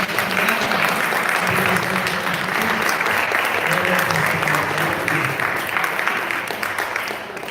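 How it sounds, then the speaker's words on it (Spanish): A church congregation applauding, sustained loud clapping from many hands that fills the room evenly for over seven seconds, with faint voices mixed underneath. "Nos vamos a dar un aplauso al Señor por esta bendición."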